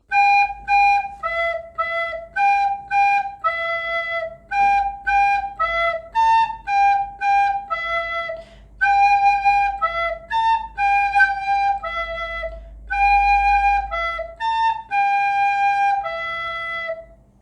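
A recorder plays a lively melody of short, clear notes in quick rhythmic phrases, with a soft low backing underneath.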